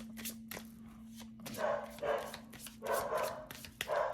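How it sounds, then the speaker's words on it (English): Several dogs barking and yipping in short bursts in the background, fairly close, over a steady low hum, with brief whimpers between barks. "I'm sorry for my dogs in the background."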